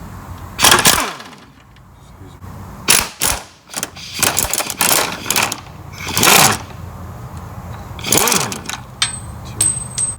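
Mechanic loosening four rack and pinion bolts on a 2001 Honda Accord: several separate bursts of ratcheting and metallic clanks, close and fairly loud, with quiet gaps between them.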